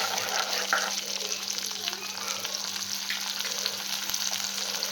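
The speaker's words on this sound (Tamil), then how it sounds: "இப்போ நல்லா கொதிக்குது" Steady bubbling and sizzling of tamarind broth boiling hard in a pan, a continuous close hiss with no talking.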